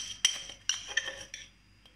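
A spoon clinks against a glass four times in under two seconds while sugar goes into a summer drink, sharp bright metallic taps that are close and fairly quiet, with nothing else heard.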